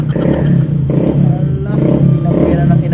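Loud, rumbling motorcycle exhaust roars steadily close by, with throttle surges rising and falling, in an outdoor setting where a dog is chasing the bike.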